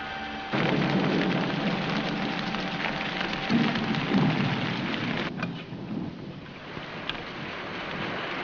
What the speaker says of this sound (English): I don't go out in the rain, Paul.